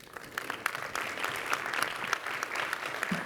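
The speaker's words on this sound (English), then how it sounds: "can we please just an applause for Professor Schmid again" Audience applause at an academic keynote lecture on artificial intelligence, a steady patter of clapping from a moderately sized crowd lasting a few seconds, fairly distant and soft.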